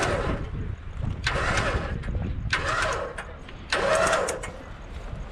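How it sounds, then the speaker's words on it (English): A tractor engine cranks and catches in three bursts, starting up to pull a crashed Z car, moderately near, with quieter idling between attempts. "I'll use the tractor."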